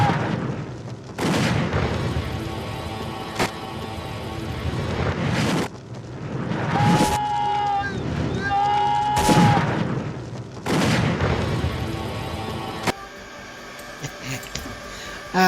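Gunfire from the Western film Young Guns comes as heavy, loud booming blasts, several shots spaced a few seconds apart, mixed with the film's dense soundtrack and some sustained tonal sounds.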